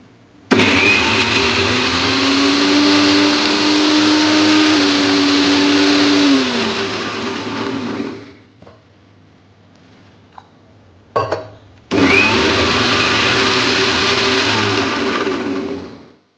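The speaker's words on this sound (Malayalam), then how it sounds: "ഞാനിത് നല്ലോണം പേസ്റ്റ് പോലെ അരച്ച് വെക്കട്ടെ" A kitchen mixer grinder grinding curry ingredients into a paste for a mango curry, loud steady motor whine in two long runs separated by a pause with short bursts, close up, no talking.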